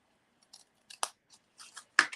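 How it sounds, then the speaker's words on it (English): Scissors snipping through card stock toward a score line, a handful of short, crisp cuts in quick irregular succession, close and isolated against near silence. "I'm going to cut up to the score line"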